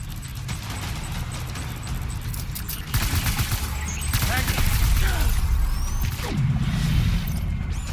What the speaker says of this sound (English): Open fire! Toss frags.